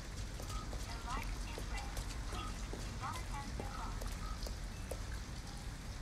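Steady rain patters continuously through an outdoor scene in Detroit: Become Human, a broadband wash with scattered drips, while a faint voice murmurs in the background.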